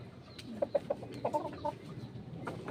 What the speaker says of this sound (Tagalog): Marami na ng ating mga manok na